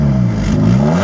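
Close up, the engine of a Chery Tiggo SUV with 174,260 km on it revs briefly and strongly at the exhaust, a loud, steady mid-pitched drone with rising harmonics and no talking.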